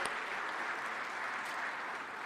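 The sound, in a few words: audience applause for panelists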